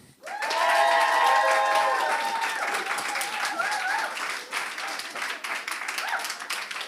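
An audience at a green transition debate claps to vote for the against team, a loud, full round of applause with cheering voices early on, continuing steadily throughout.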